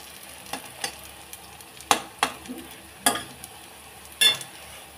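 Pumpkin and potato pakode fry in a pan over medium heat, a soft sizzle broken by several sharp clinks and scrapes of a stirring utensil against the metal, with no talking.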